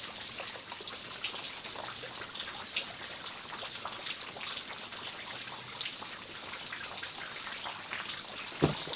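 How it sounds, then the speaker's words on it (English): Steady rain falls, a dense even hiss of drops pattering on surfaces with faint trickles, and one sharper drip near the end. "Did you touch the rain, Lillian?"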